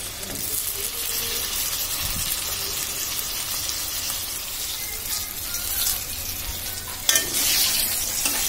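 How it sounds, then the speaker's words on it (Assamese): Brinjal and potato pieces fry in oil in a wok, a continuous close hiss and crackle that stays steady throughout, with a brief louder flare of sizzling near the end. "কেৰাহীত তেল দি দিলোঁ দি এই বেঙেনাখিনি অকণমান ফ্ৰাই কৰি লওঁ বেঙেনা আৰু আলুখিনি"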